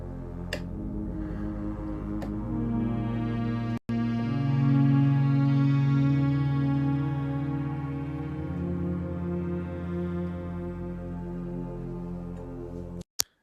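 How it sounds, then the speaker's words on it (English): Sustained Dave Smith analog synth pad with rich, warm harmonics, slowly swelling and shifting in tone, playing alone with a couple of sharp clicks. "It's a very warm sounding synth."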